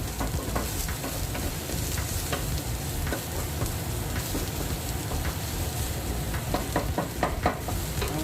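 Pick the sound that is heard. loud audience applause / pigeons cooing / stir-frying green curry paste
stir-frying green curry paste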